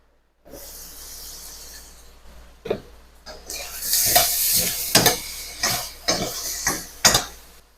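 Chayote sautéing in a pan, a bright continuous sizzle broken by repeated scrapes and knocks of stirring, close and fairly loud.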